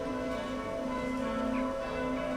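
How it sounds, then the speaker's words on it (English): Church bells ring steadily somewhere in Europe along the Danube, a sustained, dense metallic tone with layered overtones that fills the whole stretch without pause, heard at moderate distance and without voices. "Bells everywhere in beautiful Europe, just maybe because of the number of cathedrals, but the bells are wonderful."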